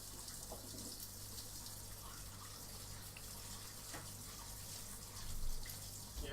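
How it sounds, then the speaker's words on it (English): Tap water runs steadily into a sink while hands are washed in a home kitchen, a constant, moderately close rush that swells briefly near the end, with no talk over it. "Just gonna get my hands a quick wash."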